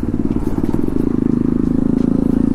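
A KTM Duke 390 motorcycle fitted with an aftermarket exhaust, mounted without a clamp, runs close and loud, a rapid pulsing engine beat that throbs steadily throughout.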